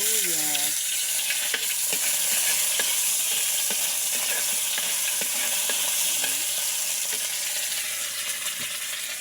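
Garlic and onion sauté in a pan with a steady, close sizzle and crackle, punctuated by repeated clicks and scrapes of a utensil stirring, with a voice briefly speaking at the start.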